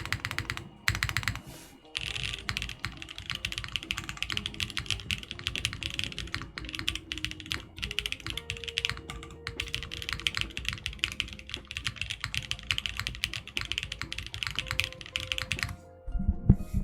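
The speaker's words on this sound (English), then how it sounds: "little more typing for you" Rapid, close clacking from a Lin Whale keyboard with SP Star Marble Soda keycaps on a half-plate build. Keystrokes run continuously with a short pause near the start and the end, with no voices.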